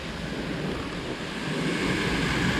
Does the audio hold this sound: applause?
no